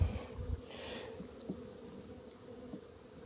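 Honey bees buzz around open beehives in a steady, faint hum that stays quiet and even throughout, with no voices.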